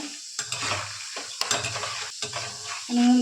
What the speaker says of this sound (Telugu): ఇప్పుడు పప్పులుగానే వేపుకుంటాను